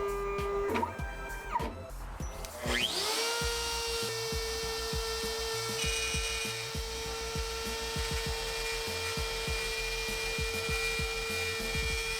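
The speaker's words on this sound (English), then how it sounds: "I'm just going to use the CNC because that's what I have" A CNC router whines at a high, steady pitch while cutting through plywood, a loud mechanical drone after a few brief start-up revs and stops.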